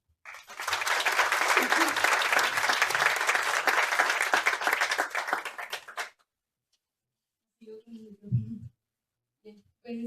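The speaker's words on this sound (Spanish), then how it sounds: "Un aplauso." Audience at a social work panel discussion applauding in a dense burst of clapping for about six seconds, then silence before a speaker's voice comes in.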